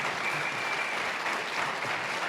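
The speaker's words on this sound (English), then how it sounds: "One more round of applause for our candidates and their hard work this campaign season." An audience claps at a Senate candidate forum, a dense, steady round of applause from a crowd heard throughout.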